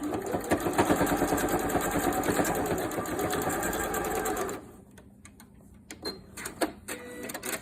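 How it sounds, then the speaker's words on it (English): A sewing machine stitches through a pre-cut fabric bowl cozy, whirring steadily and loudly for about four seconds before stopping, followed by a few faint, scattered clicks and handling sounds. "Sew right off the edge."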